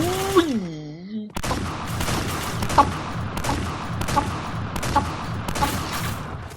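Repeated gunshots in the Point Blank first-person shooter game, sharp impulsive reports at irregular intervals over a dense, busy game background, preceded by a brief sweeping tonal sound.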